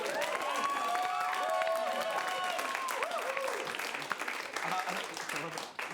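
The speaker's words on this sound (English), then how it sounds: "let's get all of our directors back on stage and applaud for them right now" Audience at an improv comedy show applauding the directors, steady clapping with some cheering from the crowd under a loud, animated voice and tonal music, fading slightly toward the end.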